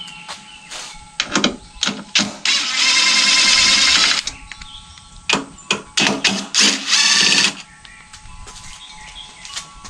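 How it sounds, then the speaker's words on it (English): A small impact driver works on headlight bolts of a 1999–2007 GMC truck, giving repeated short rapid hammering bursts, with one longer sustained run near and loud. "Some of these you can get to with a little impact driver, but the ones in the bottom you'll have to use a ratchet with."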